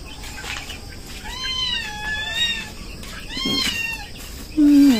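Household cats meow at feeding time while dogs are fed nearby, giving several drawn-out, rising and falling meows at close range. One short, lower-pitched call comes at the end, over steady background noise.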